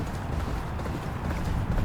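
Horse hooves gallop in a steady, continuous clip-clop across a horse racing video game, dense and fairly loud with game noise beneath and no talking.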